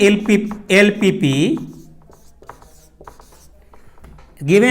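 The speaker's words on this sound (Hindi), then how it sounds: "तो इस केस में हम लोग क्या लिखेंगे, नीचे लिख देंगे इधर" A pen scratches across paper while working a math exam problem, short scribbling strokes audible in a gap between stretches of someone talking close to the microphone.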